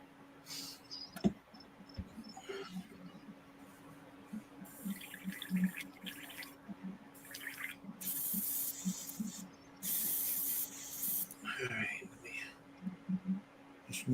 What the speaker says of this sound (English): I just want to clear out this out of my airbrush because ink can be a pain